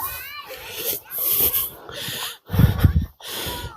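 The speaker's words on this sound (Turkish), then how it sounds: "Köpek de yanıma geliyor." A dog snorts and breathes heavily close by, in short bursts with brief pauses, one louder huffing burst near the end.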